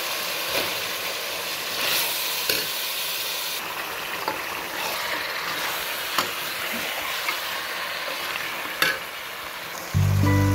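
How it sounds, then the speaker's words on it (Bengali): Pieces of tiger chicken meat are stir-fried in cooked spices in a village kitchen, giving a continuous close hiss and sizzle broken by occasional scraping knocks of the spatula and a louder burst at the end. "কষানো মশলার মধ্যে মাংসগুলো দিয়ে ভালোভাবে কষে নেব"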